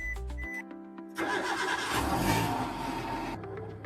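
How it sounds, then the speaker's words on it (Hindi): A car engine cranks and catches, then settles into a steady, fairly loud idle as it warms up. A brief musical tone comes before it, and no one speaks. "तो गाड़ी करते हैं अपनी वार्म"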